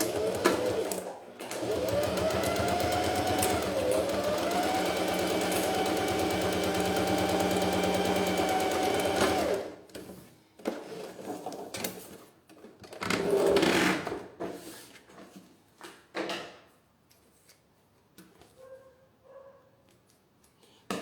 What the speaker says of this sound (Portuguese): agora eu vou costurar com o pé de máquina